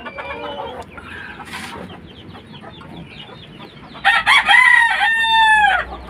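Cuban tiger hen and other chickens on a backyard farm, broody hen nearby; soft low clucking and murmuring at first, then a louder burst of rooster-like crowing and squawking near the end, close and clear.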